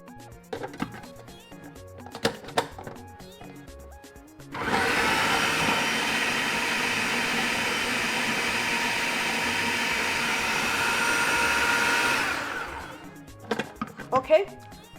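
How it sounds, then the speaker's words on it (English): A food processor chops old okra in one steady, loud whirring run of about seven seconds, with quieter clicks and handling knocks before it starts and after it stops. "because the food processor will process it"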